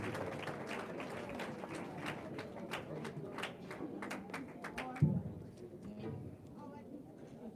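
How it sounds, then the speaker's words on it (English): An audience at a Skills for Jobs project launch claps steadily in welcome, a sustained patter of hands that thins out after a few seconds, with a voice speaking over it. "let's welcome him with a round of applause"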